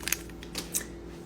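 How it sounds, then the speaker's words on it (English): Three quick crisp snips of scissors cutting open a package, close and fairly loud, with quiet background between them. "we'll get the scissors"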